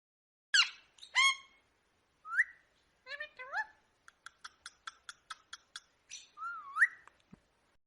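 A green parrot gives a series of close whistles and squawks, some drawn out and others in quick clipped bursts, with quiet gaps between them.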